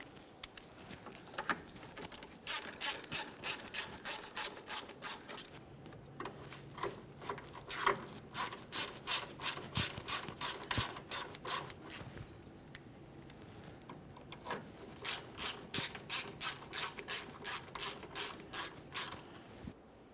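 A hand ratchet clicks in rapid, steady bursts while starting bolts on a Ford Ranger front sway bar bushing bracket, with short pauses between runs of close, crisp pawl clicks.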